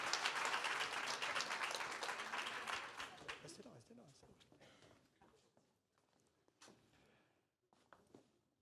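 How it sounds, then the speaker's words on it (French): An audience at a francophone health podcast award ceremony applauds the winners, with loud, full clapping that fades over a few seconds into scattered claps and faint shuffling. "On peut les applaudir."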